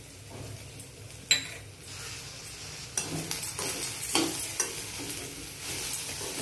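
Okra stir-fried in a pan with red chili masala and a pinch of salt: a steady sizzle with scraping and stirring clatter from the utensil and pan, and one sharp clank early on.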